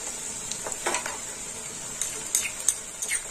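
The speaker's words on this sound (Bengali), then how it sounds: "এবার দিয়ে দেবো আদা রসুন বাটা।" Ginger-garlic paste and onion fry together in a pan for a prawn dish, a soft sizzle under a few light spoon clinks and metal scrapes.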